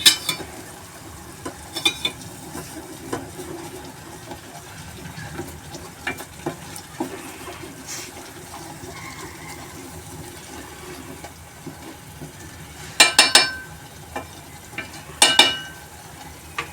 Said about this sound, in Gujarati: થોડી થોડી વાર આપણે એને હલાવતા રહીએ।